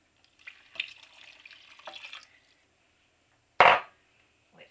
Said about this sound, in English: And we're going to add a 36 fluid ounce of water.